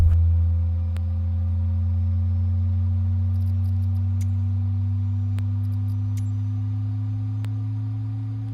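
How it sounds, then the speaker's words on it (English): A jet engine on the Aerosoft CRJ spools up in a flight simulator, giving a steady low hum and whine that climbs slowly in pitch, broken by a few faint clicks, with no voices. "Cockpit to ground. We have a good engine start."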